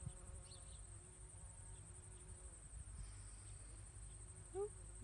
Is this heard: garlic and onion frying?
no